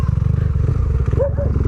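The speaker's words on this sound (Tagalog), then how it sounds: "Oh, tatawid oh. May motor oh." A motorcycle passes nearby on a street with a steady, loud, low rumbling engine throughout. A brief voice-like tone is heard near the end.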